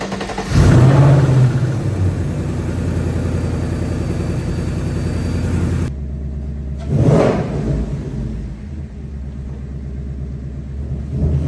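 A 2024 Ford Mustang GT, rebuilt after a wreck, runs loud and close: a sharp rev flares at the start, then a steady rumbling idle, a second rev blips partway through, and the engine settles back to idle.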